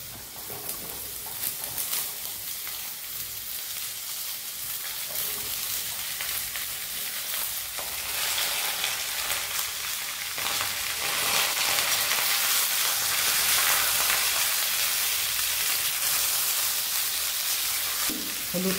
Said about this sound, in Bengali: আলুটাকে একটু ভালো করে ভেজে নিয়ে তারপরে ঝিঙেটা দেবো